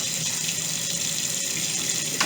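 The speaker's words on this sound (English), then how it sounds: "As I mix it, as the water go in, I'm mixing it up at the same time." Tap water runs steadily into a Kool-Aid pitcher during mixing, a close, even rushing hiss that continues without a break; no voices.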